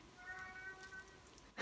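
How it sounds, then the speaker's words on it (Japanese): A house cat meows once as it comes into a kitchen where a chicken and burdock hotpot is cooking, a short faint tonal mew followed by a brief rustle. "すごいタイミングで猫入ってきた。"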